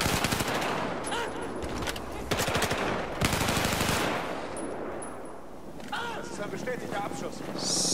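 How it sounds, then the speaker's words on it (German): Machine gun fire in the Battlefield 4 campaign crackles in rapid bursts, loud and close, interrupted by pauses, with someone talking over the action. "Maschinengewehr, na klar."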